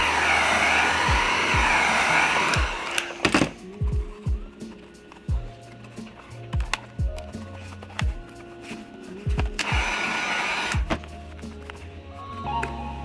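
Heat gun blowing hot air onto vinyl wrap on Polaris Scrambler ATV plastics, a steady whooshing hiss in two bursts separated by quieter stretches of tapping and pressing handling sounds, close by.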